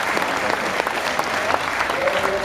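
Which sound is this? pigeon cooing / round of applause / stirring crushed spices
round of applause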